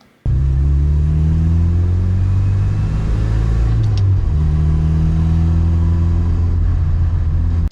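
Car interior recorded through a camera-mounted microphone while driving: a steady, muffled engine drone with rising and falling pitch through gear changes and a brief click midway.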